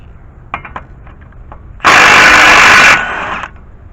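A power tool spins off the 18 mm nut on the tie rod end of a 2001-2006 Cadillac Escalade, giving one loud, close, whirring burst of about a second that tails off, with a few light clanks before it.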